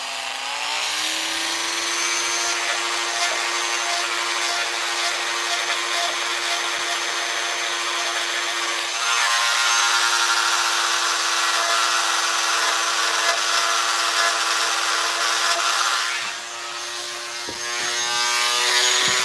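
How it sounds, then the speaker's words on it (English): A rotary tool fitted with a small pointed burr shapes a piece with a constant high-pitched motor whine. The tone is close and continuous, rising slightly in intensity partway through and dipping briefly near the end. "I'm just going to round it, shape it with this smaller pointy burr."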